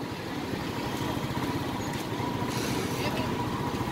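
Traffic rumbles along the National Highway in a small Philippine town, San Narciso, Zambales, with steady engine noise from passing vehicles and motorbikes close by throughout.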